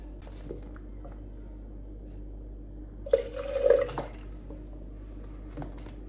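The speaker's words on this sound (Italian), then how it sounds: "A questi 100 ml di Alkermes metteremo 20 ml di acqua." Water is poured into Alkermes liqueur to make a soaking syrup for Sardinian cardinali pastries, a short faint trickle under a second long against a quiet, humming kitchen background.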